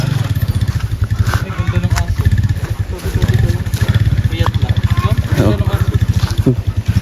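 A motorcycle engine putters loudly and continuously close by, with a rhythmic low throb and some clatter, while people talk over it.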